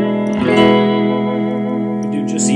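An electric guitar plays a completely clean tone through an amp, picked up by a 57 microphone before a Nocturne BS-301 Mystery Brain echo pedal is engaged; sustained, ringing notes and chords sound close and clear.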